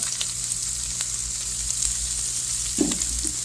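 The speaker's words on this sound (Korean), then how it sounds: "야채를 넣어주시고 또 볶아줍니다." Vegetables stir-frying in a pan with cooked pork intestines and pork stomach: a steady, loud sizzle with faint scraping and stirring, and a brief clatter near the end.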